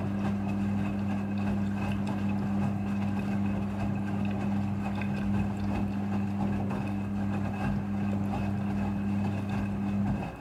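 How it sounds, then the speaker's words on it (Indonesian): A Midea front-loading washing machine fills with water during its rinse cycle, producing a steady low mechanical hum with a strong tonal drone and a faint rushing of water, constant and unbroken for about ten seconds. "Pada proses pembilasan dengan air, mesin cuci akan mengatur jumlah kebutuhan air secara otomatis."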